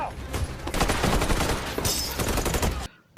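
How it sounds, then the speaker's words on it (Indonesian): A film gunfight between criminals and marshals, with dense rapid gunfire and bursts of shots filling nearly the whole stretch before cutting off abruptly at the end. "Aksi baku tembak pun terjadi."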